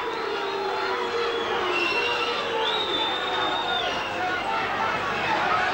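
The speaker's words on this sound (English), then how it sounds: "the referee certainly hasn't earned much of the crowd's pleasure here, and they're letting him know all about it" A large stadium crowd at a 1986 rugby league match between Hull Kingston Rovers and Australia keeps up a steady roar of jeering at the referee, with a commentator talking over it.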